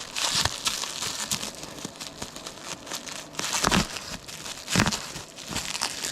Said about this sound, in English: Bringing out the heavy-duty scissors for this one.